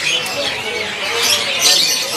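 Palak parrots squawking at a kiosk in Pramuka bird market, with harsh, shrill calls overlapping continuously and close over busy market noise.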